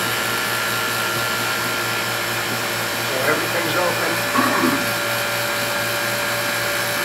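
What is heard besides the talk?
vacuum pump running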